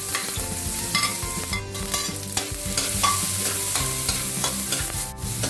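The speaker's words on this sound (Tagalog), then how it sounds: "Just enough oil to saute our garlic and onion." Garlic and onion sauté in a small amount of oil in an ordinary wok, a steady close sizzle broken by scraping stirs, with no voices.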